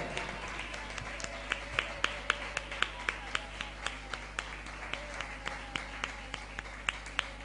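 Churchgoers clap along during a worship service, steady rhythmic claps ringing out over a low hum and a soft murmur of voices.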